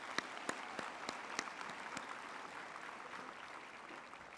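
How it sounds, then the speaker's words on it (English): Graduation ceremony audience in a university hall applauding doctoral graduates, a steady wash of many hands clapping at moderate distance with a few sharper individual claps standing out early on. "Another hand of applause to them."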